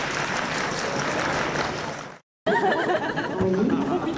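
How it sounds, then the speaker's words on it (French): A studio audience at a French television telepathy show applauds in a dense, steady clatter of clapping that breaks off briefly and resumes, with chatter and a voice mixed in. "Je crois qu'on peut applaudir quand même Sarah très très fort."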